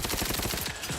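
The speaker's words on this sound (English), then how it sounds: "them fucking snipers in the background" Rapid gunfire in The Outer Worlds 2 video game, a dense burst of repeated shots filling the whole stretch at steady loudness, with sniper fire from the background among them.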